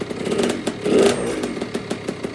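A Kawasaki KX65 dirt bike engine with a big bore kit runs close by, rising briefly in a couple of short revs over a rough, sputtering idle.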